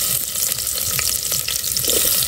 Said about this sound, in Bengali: আর এখন দিব কিছু কোঁচানো পেঁয়াজ